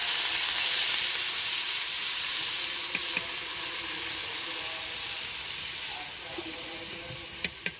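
Water is poured into a sizzling fish curry in a pan in a Sundarbans village kitchen, raising a loud burst of steamy hiss that settles into a softer sizzle, with a few sharp clicks near the end.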